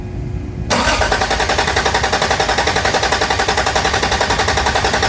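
A Toyota Cressida MX83 engine, just reinstalled, cranks on its starter in a loud, steady rhythmic chug after a brief quieter lead-in, the rapid pulses continuing unbroken to the end.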